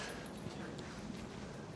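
A dog at a nature reserve lets out faint, thin whimpers and small yips, heard over steady outdoor background noise.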